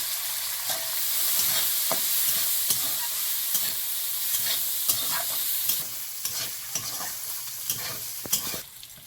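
Peanuts and a little coconut frying in a pan for khichuri, close and steady, with a continuous hiss of sizzling broken by sharp scraping clicks from a spatula stirring every second or so; no one speaks.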